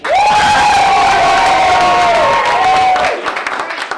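A loud audience at a live tournament event cheers and whoops as a show-of-applause vote, a dense sustained roar lasting about three seconds before easing into scattered clapping and shouts.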